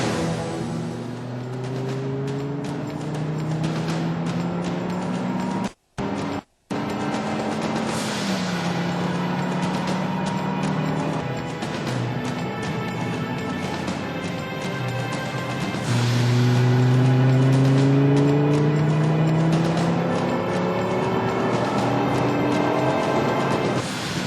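A Dodge Viper GTS is driven hard on a race track, its engine revving up and down through the gears, loud and close, with rising and falling pitch sweeps and a brief cut in the sound.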